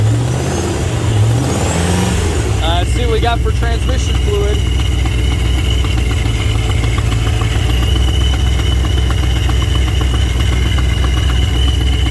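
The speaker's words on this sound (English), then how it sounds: "this is starting to run a lot better" A supercharged V8 Corvette engine idles steadily close by with a constant low rumble throughout, while someone talks over it.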